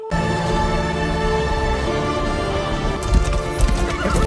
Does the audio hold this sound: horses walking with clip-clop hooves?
yes